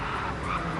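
Race car skidding and spinning out at Suzuka's 130R corner in a racing video game, a brief continuous tire squeal over engine noise, loud and close, no talk.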